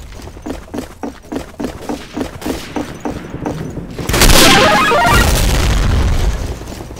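Grenade explosions in Day of Defeat: Source. Rapid rhythmic gunfire leads into a loud, sustained booming blast that rumbles for a couple of seconds before fading, with no voices.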